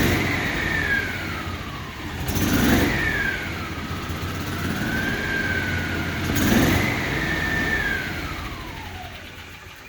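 A car engine revs up and settles back twice through an aftermarket muffler, a low throaty exhaust note rising and falling over a steady idle.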